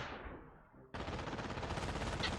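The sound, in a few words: machine gun fire in a Company of Heroes mod video game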